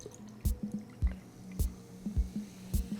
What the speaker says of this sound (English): We're going with approximately 3 ounces of Prosecco. I prefer to free pour.